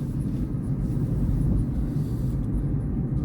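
Dacia Spring electric car driving, giving a steady low motor and road rumble from inside the cabin that holds at an even level with no talk.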